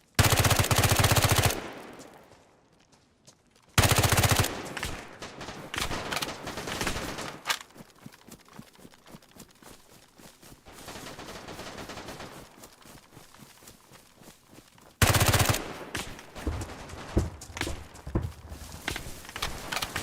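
Full-auto weapon fire in DayZ: loud sustained automatic bursts open and return later, with a long stretch of quieter, rapid irregular shots and clattering impacts in between, no speech present.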